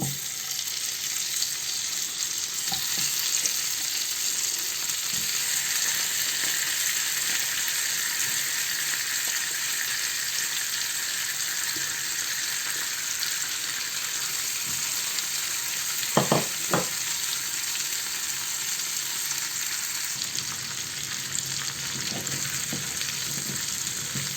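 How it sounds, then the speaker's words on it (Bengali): Chicken frying in a pan just used for toasting nuts and raisins, a steady close sizzle running throughout with brief clinks of stirring partway through, no talk. "এখন আমি একই প্যানে চিকেনটাকে ভেজে নেব"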